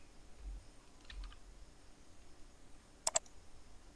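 A computer keyboard being typed on, with a few faint scattered key taps and then a sharp double click, close and quiet.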